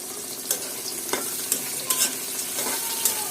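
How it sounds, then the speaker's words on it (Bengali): Four or five onions sizzle steadily in hot oil in a pan, with a few sharp scraping stirs of a spoon cutting through the continuous frying hiss, close and fairly loud with no talking. "তেলের মধ্যে ভাজতে হবে"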